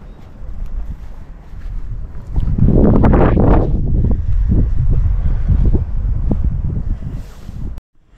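Wind gusts buffet the microphone on a Black Forest hilltop, swelling loudly midway and roaring on in rough bursts before cutting off abruptly at the end.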